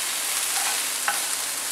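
Small onions and other ingredients sautéing in a pan for a Kerala-style sardine fish curry, a loud, dense, steady sizzle with a faint stirring scrape, brief and without talk.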